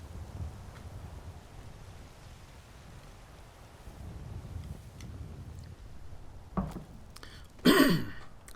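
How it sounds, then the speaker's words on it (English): A man clears his throat twice in close succession, a short rough burst followed by a louder, harsher one near the end, over a low rumble of ambient game sound. "Clear my throat a little bit."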